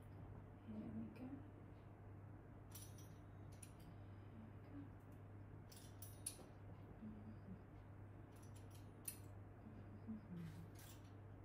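Croissant dough being cut into large triangles on a kitchen counter: soft, faint cutting and clicking sounds at intervals over a steady low hum, with no voices.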